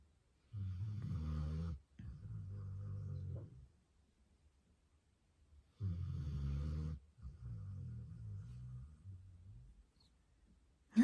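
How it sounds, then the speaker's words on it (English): A sleeping dog snores close by in two slow cycles. Each is a long, deep, rumbling inhale followed by a rougher exhale, with quiet gaps between breaths and no voices. "That snoring is a little distracting, isn't it, guys?"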